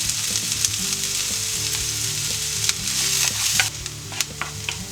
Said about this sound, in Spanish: Ponemos una sartén al fuego con una cucharada de aceite.